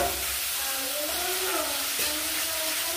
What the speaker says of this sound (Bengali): হলুদ আর নুন দিয়ে এটা ভাজবো